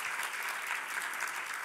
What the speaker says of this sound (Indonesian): Dengan tepuk tangan bagi Tuhan kita Yesus.